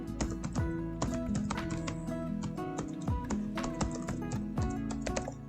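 Someone types an email address into a sign-in form on a computer keyboard, making a quick, steady patter of key clicks that sounds close and soft, with no talking.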